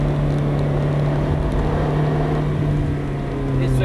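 A Ferrari F430 drives on the La Génétouze circuit during a driving course, its engine a steady, loud in-car drone holding a constant note before swelling slightly as it accelerates near the end.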